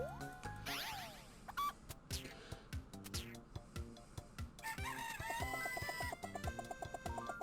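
Cartoonish chicken clucks and squawks from The Legendary Starfy video game, repeated bursts mixed with chiptune-style music and game sound effects, fairly quiet.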